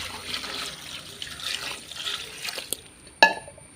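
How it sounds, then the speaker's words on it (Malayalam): Hot water poured into a vessel while preparing a Karkidakam leafy-greens dish, a steady close trickle and splash that ends with a brief clink, with no voices. "ഞാൻ വെള്ളം ഇതിലേക്ക് ഒഴിക്കുക"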